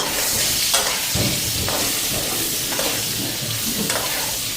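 Brinjal and potato frying in a pan give a continuous close sizzle with repeated stirring scrapes at a loose rhythm, with no voices.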